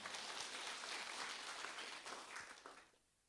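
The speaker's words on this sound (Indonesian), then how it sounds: "Berikan tepuk tangan bagi Tuhan kita." Applause from a church congregation fills the space after a call to praise, a dense steady wash of clapping that fades out near the end.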